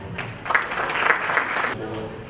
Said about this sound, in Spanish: brindemos un fuerte aplauso al maestro en la auditoría Odiseo Rubio